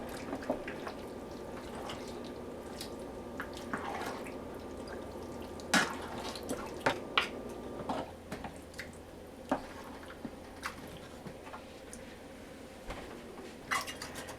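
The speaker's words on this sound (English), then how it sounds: "I put just a little bit of water down in the can, in the tomato paste can" Water trickles and drips into an emptied tomato paste can in a home kitchen, preparing a vintage 1971 lasagne recipe; faint irregular splashes and small metallic drips dominate, with several sharper clinks near the middle and end.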